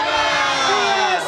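A big crowd at a Fiesta cheering and shouting together in one loud, sustained roar, close and dense.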